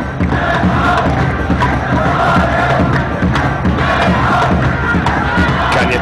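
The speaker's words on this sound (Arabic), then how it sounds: "كان يردد في المدرجات حسون الشيخ" Football fans in the stands at a match between Al-Faisaly and Al-Jaish chant a player's name, a loud rhythmic crowd chant filling the stadium, steady and continuous throughout with no gaps.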